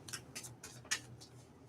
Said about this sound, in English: I'm shuffling my cards.